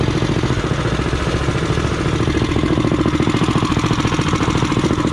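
A Honda XR80R motorcycle engine runs loud and close with a steady, buzzy, rapid putter that holds throughout without any pause.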